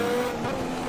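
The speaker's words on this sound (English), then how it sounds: "Small bit of wheel spin and sliding there" A 1988 Formula 1 race car in Automobilista spins its wheels and slides briefly at the Buenos Aires circuit, engine droning loud and close with a faint squeal of the tires.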